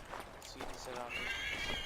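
A horse in the video game Assassin's Creed 3 Remastered lets out a drawn-out neigh, with hoof clip-clops and game ambience around it, fairly close but not loud.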